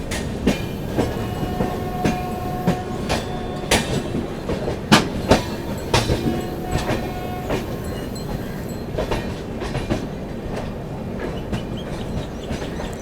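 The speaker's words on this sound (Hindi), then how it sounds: "अपनी ट्रेन पहुँच रही है बरौनी जंक्शन पे" The Arunachal AC Superfast train rolling into Barauni Junction station in heavy monsoon rain, with steady close rumble and repeated rhythmic clickety-clack of wheels over rail joints, occasional sharp knocks, and no talk.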